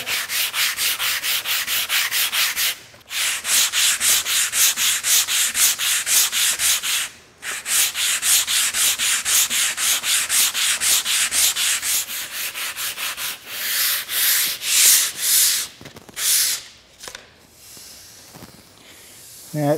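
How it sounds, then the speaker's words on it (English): A wooden spar is rubbed with 80 grit sandpaper in fast rhythmic strokes, a close rasping hiss with brief pauses, slowing into separate longer swipes toward the end. "just go over this with this 80 grit sandpaper and go all the way around"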